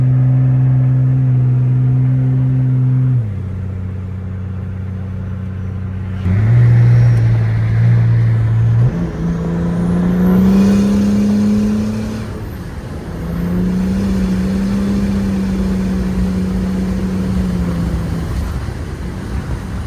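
A turbocharged diesel Mercedes S-Class with a 606 engine, BorgWarner S257 turbo and 7.5 transmission pulls hard, its loud engine drone rising and dropping through gear shifts with a faint turbo whistle, heard from inside with no talk.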